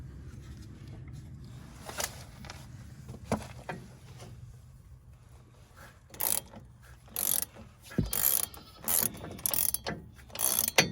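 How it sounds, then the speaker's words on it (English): Pass-through ratchet wrench turning a front shock bolt on a 1980s–1990s Ford F-Series truck with a 7.3L Powerstroke, bursts of rapid ratcheting clicks that get louder and more frequent toward the end, with some mechanical knocks. "get my wrench up here, my pass-through wrench, hold it."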